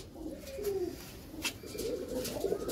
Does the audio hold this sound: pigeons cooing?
yes